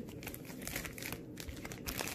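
A plastic bag crinkles and rustles steadily up close as Oreo pops are wrapped in it, with no talking.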